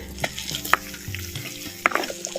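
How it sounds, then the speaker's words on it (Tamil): Peanuts sizzle and rattle in a hot pan as a spoon scrapes and stirs them in quick irregular strokes, close by with no talking, while making a village-style yam curry. "சேர்த்த வேர்க்கடலையை நல்லா கிண்டு கிண்டு நல்லா கிண்டி விட்டு"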